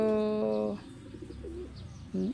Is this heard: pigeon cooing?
yes